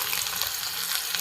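Chopped onions sizzling loudly in hot oil with mustard seeds and urad dal for a village-style mutton gravy, a dense, steady close frying hiss with no talking.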